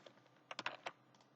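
Someone types on a computer keyboard in a short, quiet flurry of a few crisp keystrokes, with soft clicks around them.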